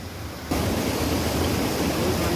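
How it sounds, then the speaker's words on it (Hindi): Fast-flowing river water near the Kotabagh waterfall in Nainital, a loud, dense rushing roar that bursts in abruptly after a quieter moment and then holds steady and close. "यहाँ पर अभी बहुत ही तेज पानी आ रहा है"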